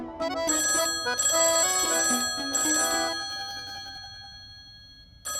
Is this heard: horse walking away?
no